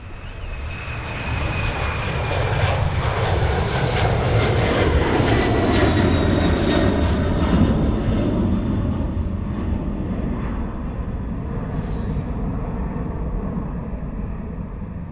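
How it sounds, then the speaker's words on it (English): A TUI Boeing 767-300 taking off down the runway at Manchester Airport, its engines building into a loud, sustained roar and deep rumble that swells and then slowly recedes, heard from nearby without talk. "Rolling down the runway there, taking off is a Boeing 767-300 of"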